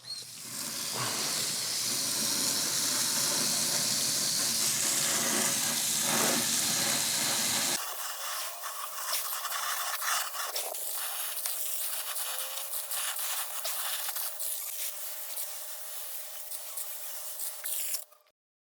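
Window air conditioner filter rinsed with water and rubbed by hand outdoors, first a loud steady hissing wash of running water, then quieter scrubbing and rubbing sounds.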